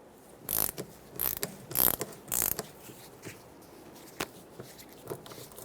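A socket wrench ratchets on a brake cable bolt of a 1995-2004 Toyota Tacoma, several short, close clicking bursts in quick succession followed by softer scattered clicks.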